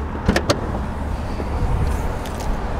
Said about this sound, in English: Just going to quickly unlock the car now so we can get into the boot.